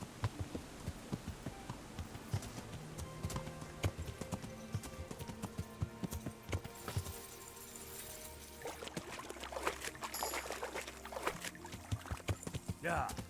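Horse hooves clip-clop in a steady, fairly faint rhythm while riding cross country in the game Kingdom Come: Deliverance, layered under a low hum and ambient game sounds, with someone talking over them.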